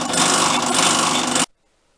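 A straight drill whines at a steady, loud pitch while working on a vintage bench drill restoration, then cuts off abruptly into near silence.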